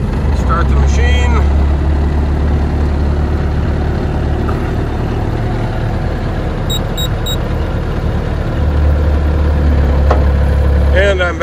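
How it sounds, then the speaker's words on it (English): A Bobcat skid steer, just repaired after a lift and tilt hydraulic fault, sits running at a loud, steady idle with a deep, even engine drone throughout. A voice speaks briefly over it. "Start the machine."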